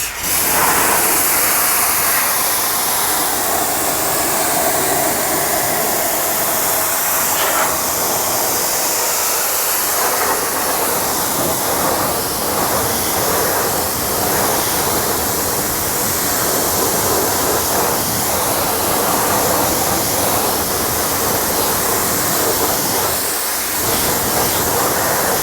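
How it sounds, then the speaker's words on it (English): Garden hose spraying water onto the wheels of an Aston Martin Vantage to rinse off brake dust, a constant loud hiss of spray that keeps going unbroken. "Watch all this surface brake dust come off just with the hose."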